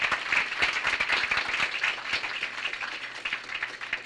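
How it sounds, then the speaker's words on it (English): An audience at a community renewal gathering gives a round of applause, a continuous patter of many hands clapping at moderate volume, with sharper individual claps standing out throughout. "please stand so we can give you a round of applause"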